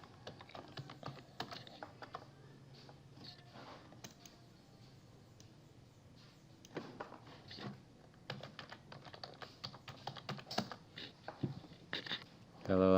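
A website address is typed on a computer keyboard: bursts of quick, light key clicks in irregular runs with pauses, fairly close and quiet, with faint room sound between.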